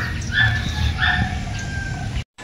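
Several dogs bark and howl at once, with drawn-out wavering howls over repeated barks, fairly loud and continuous around a house, before an abrupt cut at the end.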